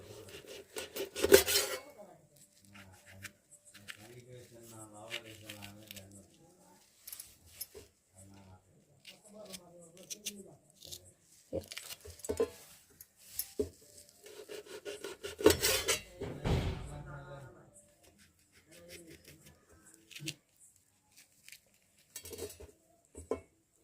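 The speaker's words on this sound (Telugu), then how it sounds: "ఈ ఆనియన్ కూడా పచ్చిమిర్చిని కూడా కట్ చేసుకుందాం" Onion and green chillies are cut with a knife in a home kitchen: intermittent scraping, rasping strokes and light knocks against the board, fairly quiet, with pauses between bursts.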